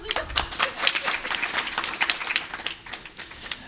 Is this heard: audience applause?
yes